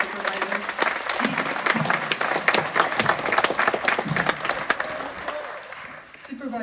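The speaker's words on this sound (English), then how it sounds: "So we have some applause for this very hardworking county supervisor." A meeting audience claps for a county supervisor, producing dense, sustained applause with sharp individual claps. Voices murmur underneath throughout.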